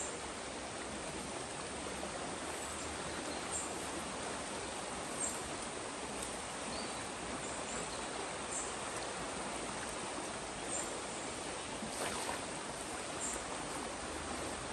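River water flowing steadily at a wild riverside campsite in the rain, a soft continuous broadband rush with no talking.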